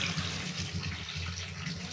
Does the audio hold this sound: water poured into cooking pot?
yes